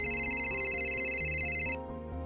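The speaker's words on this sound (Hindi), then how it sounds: "तभी उसके मोबाइल की घंटी बजती है।" An electronic ringtone chimes with high steady tones over a soft musical background, then cuts off abruptly near the end.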